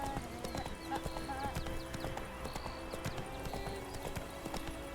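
A summoned horse in a video game trotting up, with steady rhythmic clip-clopping hooves and a brief whinny over a busy ambient game soundscape with chirping birds.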